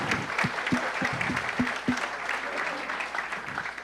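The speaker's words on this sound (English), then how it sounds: "Round of applause for Faces." Audience applause fills the room after a startup pitch at a San Francisco demo night, a steady wash of clapping from a crowd, with a few brief vocal whoops early on.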